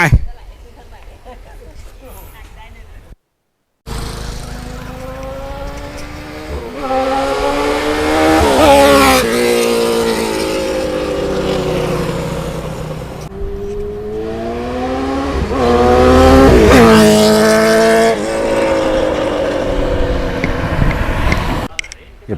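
A Honda CBR600RR motorcycle with an Arrow exhaust is ridden, its engine rising and falling through repeated revving pulls and gear changes. Someone talks over the loud exhaust note throughout.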